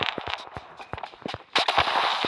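An explosive burst from a grenade in the mobile shooter Standoff 2, arriving as a sudden broadband blast mid-clip with a sustained roar after scattered sharp clicks and footsteps of game action.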